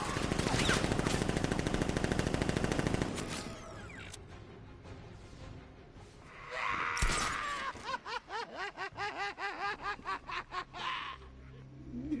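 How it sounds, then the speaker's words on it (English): Guards fire a fast machine-gun burst in the video game Batman Arkham Knight, a dense rattling volley for a few seconds, followed by mechanical clanks and a voice laughing. "Guard! Open fire! Shoot everything! Now!"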